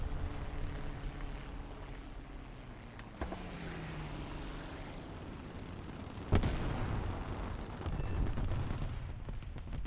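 Bombs bursting in a war video game: a rumbling, continuous din of battle broken by a sharp blast near 3 seconds and a louder, closer explosion around 6.5 seconds, with engine-like drone underneath.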